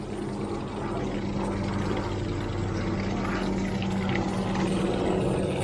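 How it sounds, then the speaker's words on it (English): A helicopter flies overhead outdoors, producing a steady low rotor drone and rumble that holds at a constant loudness for several seconds, with no voices. "Got a helicopter going over at the minute, so a bit noisy."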